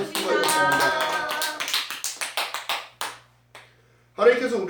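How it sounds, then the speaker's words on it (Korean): A church congregation at a New Year's Eve service claps together in a steady run of about ten crisp, evenly spaced claps. Speech comes before the clapping and resumes after a brief pause. "다 같이 박수 한번 칩니다."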